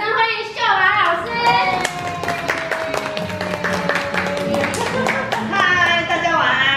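Audience at a family gathering with a makeup demonstration in Tainan claps to welcome a teacher, a brisk scattered clapping under loud overlapping voices and tonal sounds, fairly close and busy.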